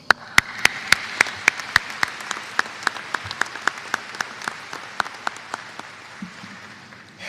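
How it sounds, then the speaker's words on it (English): Scattered, sparse applause from a university graduation audience, with a couple of dozen distinct sharp claps in an uneven rhythm over a soft room background, tapering off toward the end. "You deserve a round of applause."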